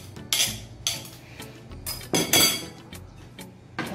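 Avocado dessert being mixed in a bowl for buko pandan, heard as a series of sharp utensil clinks and scrapes against the bowl, irregular and close, with short pauses between strokes.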